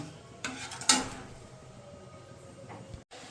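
A utensil stirs aloo dum curry in a pan on a gas stove, giving a couple of brief scraping clinks close by over a quiet kitchen background.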